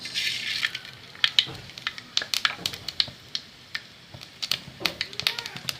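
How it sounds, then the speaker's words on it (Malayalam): Sharp little pops and crackles burst irregularly, close and crisp, as mustard seeds spit in hot coconut oil, over a quiet sizzling background. "കടുക് പൊട്ടി"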